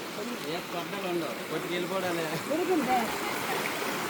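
The Vamsadhara river in flood rushes past in a steady, continuous roar of churning water, with people talking nearby over the constant flow.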